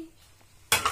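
Dishes being washed in a home kitchen: quiet handling, then a sudden close clatter of crockery and water near the end.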